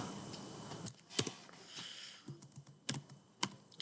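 Computer keyboard typing, quiet and close, a few scattered keystroke bursts with pauses in between.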